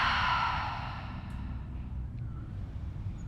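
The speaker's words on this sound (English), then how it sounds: "Couple normal breaths here for a break." A long, deep exhale during a breathing exercise, a breathy whoosh that starts strong and fades over a second into quiet, steady room hush.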